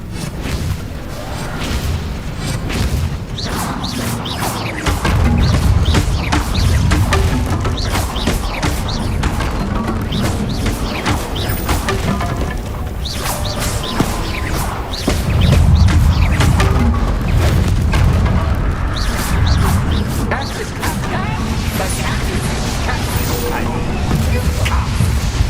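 Spell blasts, booms and crashes ring out in Hogwarts Legacy combat, with loud low-end impacts near 5 and 15 seconds over dense, continuous battle noise and game voices.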